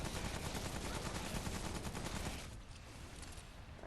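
Rapid continuous gunfire in the shooter game Remnant From the Ashes, a loud dense stream of shots that thins slightly toward the end, with no voices.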